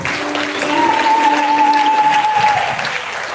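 Mourners at a funeral service break into sustained applause, a dense, even wash of many hands clapping that holds steady for a few seconds, with a faint tone running over it before it tapers off.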